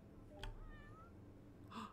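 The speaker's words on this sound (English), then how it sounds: "It's a kitty." Cat meowing in the fantasy game Potions: A Curious Tale, two short meows spaced apart, the second rising and brighter, over a soft steady musical background.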